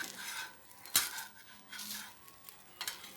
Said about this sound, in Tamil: இப்போ தோசையை மாற்றி போட்டுடலாம்.